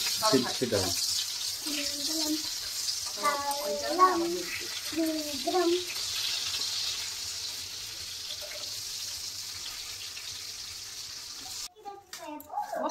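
Eggplant frying in a covered pan, a steady soft sizzle running under intermittent nearby speech, with a few clatters near the end.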